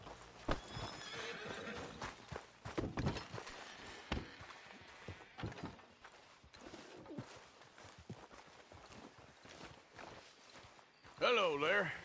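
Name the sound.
horse whinnying and hooves in the video game Red Dead Redemption 2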